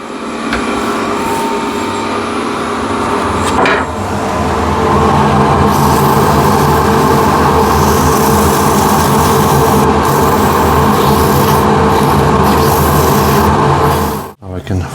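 A wooden container spins on a woodturning lathe while being sanded, a loud continuous rasping hum with steady motor drone for most of the clip, cutting off briefly near the end.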